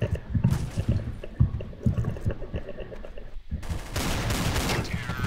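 Counter-Strike: Source gunfire, a run of sharp irregular shots followed by a denser burst of rapid fire near the end, fairly close and loud.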